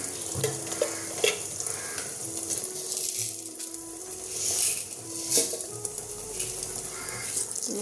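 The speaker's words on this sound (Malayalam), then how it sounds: "കടുക് പൊട്ടി വരാൻ കുറച്ച് സമയം എടുക്കും" Mustard seeds and fenugreek splutter in hot oil for a Kerala-style prawn theeyal, a steady close sizzle broken by small irregular pops and crackles, with occasional clinks of a utensil against the pan.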